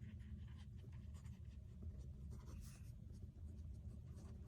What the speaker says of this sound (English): I need to write on my piece of paper.